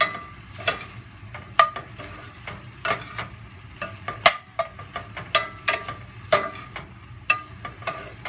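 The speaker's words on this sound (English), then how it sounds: "And keep cutting into the meat also, just to break it up into smaller pieces" Ground turkey broken up and stirred in a frying pan over medium-high heat, with repeated sharp scrapes and taps of a utensil against the pan over a low, steady sizzle.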